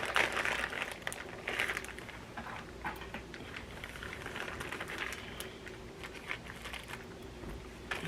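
A wig delivery package being opened by hand, with close crinkling plastic and paper rustles and small tapping clicks scattered through several seconds, fairly quiet, no talking.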